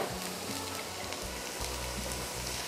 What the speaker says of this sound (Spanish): cebolla es importantísimo que esté casi quemada. Así que vamos a sofreír aquí un buen rato.